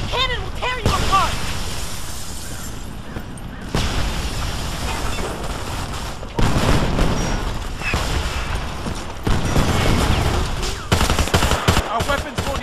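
Rapid automatic gunfire and booming cannon blasts in a chaotic battle in the video game Homefront, loud and continuous, with shouting voices mixed in.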